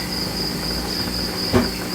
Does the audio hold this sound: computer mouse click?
no